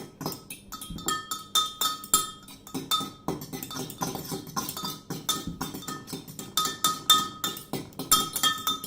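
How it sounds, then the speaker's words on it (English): A fork beats eggs in a bowl for scrambled eggs, making a quick, rhythmic clinking and tapping against the sides, close and continuous with no talking. "next, step 2, beat eggs. We're going to use a fork today."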